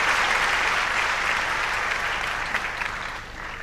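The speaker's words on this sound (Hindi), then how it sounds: "आप सबकी भरपूर तालियों में हम चाहेंगे कि एक दफा शुक्रिया अदा करें डीसीएस ऑपरेशंस का।" Dense, continuous applause from a large audience fills the hall at an air force show, loud and even before tapering slightly toward the end.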